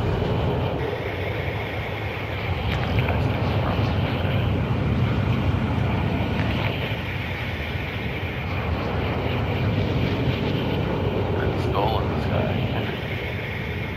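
Steady, loud roar of an aircraft engine inside a small skydiving plane carrying about ten people in flight, constant broadband drone throughout with occasional voices underneath.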